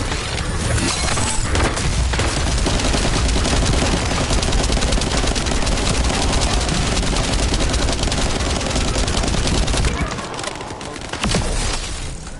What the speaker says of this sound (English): Summoning turret.